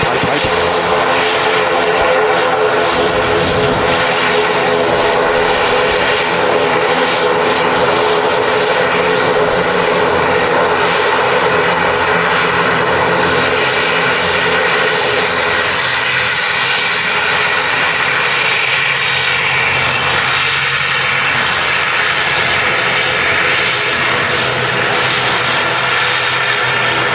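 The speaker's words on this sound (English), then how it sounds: "Very loud, the ATRs." ATR turboprop airliner engines roar very loudly at an airport, a dense sustained propeller drone with steady tonal hum filling the whole stretch, close and continuous with no speech.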